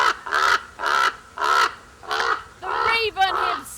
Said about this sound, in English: The raven, omen of bad luck, croaks in the darkness.